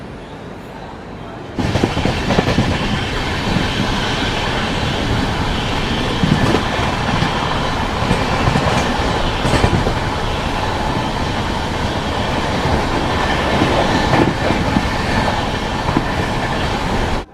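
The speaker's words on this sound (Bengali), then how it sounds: "আর ট্রেন কিন্তু কন্টিনিউ 128 129-এ টানছে।" An express train runs steadily at about 128 km/h, heard from inside as a continuous dense rumble and rattle of wheels on rails, with occasional clatter peaks and no talk.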